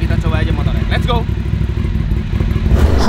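Aprilia Shiver 750 motorcycle engine idling with a steady low throb and rattle, heard close up while a voice talks over it throughout.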